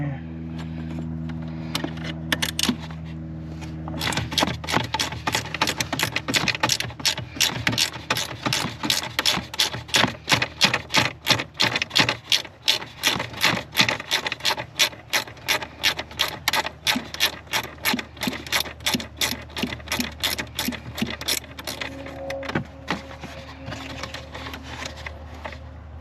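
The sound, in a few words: 8mm ratcheting wrench removing OBD2 port bracket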